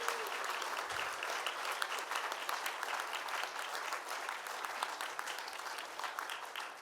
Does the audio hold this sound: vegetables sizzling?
no